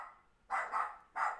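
Dogs give two or three sharp, close barks in quick succession, the first pair back to back and another after a short gap, with no talk over them.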